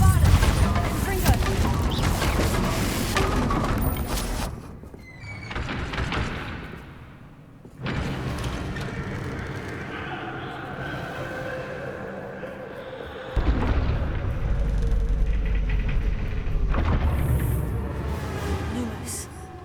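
Bombarda and Confringo blasting spells fire in Hogwarts Legacy, several loud crashing impacts and booming bursts spread across a long stretch of dense combat noise, with brief quieter gaps between the blasts.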